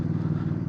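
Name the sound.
Bear 650 motorcycle with Red Rooster Performance exhaust revving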